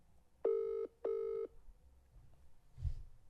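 Two evenly spaced electronic ringback tones of a WhatsApp call, each lasting under half a second, followed by a low muffled thump; clear and close, no speech.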